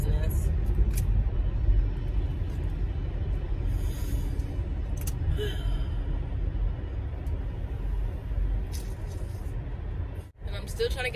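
Steady road traffic rumbles close by, a continuous low roar of passing cars and heavier vehicles with occasional hiss, lasting throughout with a brief dip near the end.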